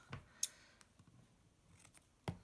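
Scissors cut through a cardboard washi tape kit box, giving a few quiet, short snips spaced apart against a near-silent background.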